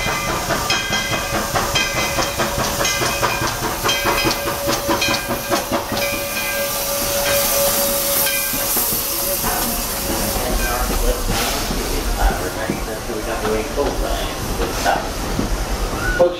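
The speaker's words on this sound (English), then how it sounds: "the Walt Disney World Railroad is now arriving at Fantasyland Station" The Walt Disney World Railroad steam train pulls into Fantasyland Station with loud hissing steam and clanking, as a conductor's announcements play over the noise.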